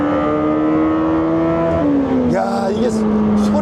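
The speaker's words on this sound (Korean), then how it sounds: "이게 엄청 고회전 사운드가, 특히나 8기통이다 보니까" Lamborghini Temerario V8 revving hard at high rpm, a loud sustained engine tone holding steady before shifting lower, with a faint voice in the background.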